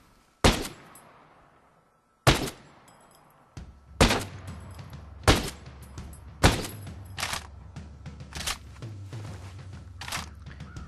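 Gunfire aimed at an enemy turret in Ghost Recon Breakpoint: about eight sharp, separate shots spaced a second or two apart, each with a short echoing tail, over a low background hum.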